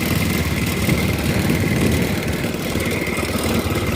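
Habal-habal motorbike engine running at a steady idle, a continuous close, rumbling drone with no voices over it.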